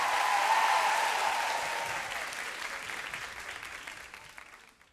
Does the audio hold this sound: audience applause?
yes